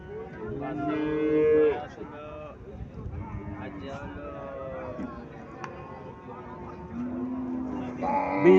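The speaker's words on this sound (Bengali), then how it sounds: "ফিজিয়াম জাতের গাভী, সাইজ ছোট।" A small Friesian dairy cow with a young calf moos repeatedly in a farm shed, several loud drawn-out bellows spread across the clip, with voices talking in the background.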